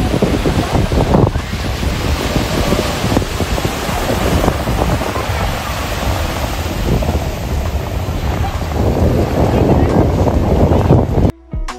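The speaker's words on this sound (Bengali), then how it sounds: "এই সি বিচে তোমরা সেই পুরীর সমুদ্রের ফিলটা পুরো দমে নিতে পারবে" Sea waves surge at Rishikonda beach in Vizag, a loud, constant roar of surf mixed with wind buffeting the microphone, before cutting out abruptly at the end.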